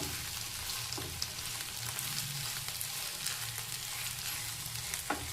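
Brinjal curry sizzles and fries in a pan as it is stirred, a steady crackling hiss with faint scraping of the spoon, close and continuous with no talking.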